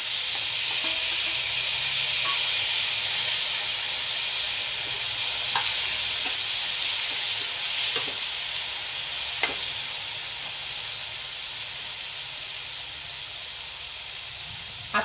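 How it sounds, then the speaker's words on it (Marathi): Tomatoes sizzle loudly in hot oil with spices for a Maharashtrian tomato bhaji, a constant close frying hiss broken by occasional faint scrapes and taps of a stirring spoon. "आता हे टमाटे आपले तेलामध्ये छान आहे ना परतलेले आहे"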